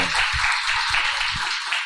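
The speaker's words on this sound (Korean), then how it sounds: "영광의 박수." Congregation clapping during a Sunday church worship service, a steady run of hand claps with a dense broadband wash, held at an even level for about two seconds with no talk.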